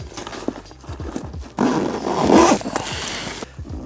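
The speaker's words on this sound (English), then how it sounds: "And they just zip up like so." A red waterproof motorcycle luggage bag is zipped shut in one long, loud rasping pull lasting about two seconds, with softer rustling of the fabric before and after.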